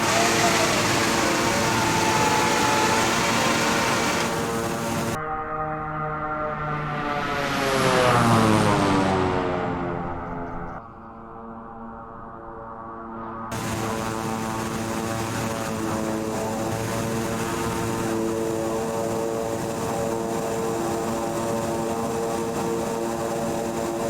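Steady drone of an aircraft engine in a flight video game, loud and continuous, with a mid-section where the pitch swells and falls as if passing or throttling, then settling back to a constant hum.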